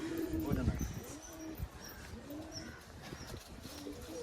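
Low, rolling coos from many old-line Madrasi pigeons packed into a loft, overlapping and near, with someone talking over them.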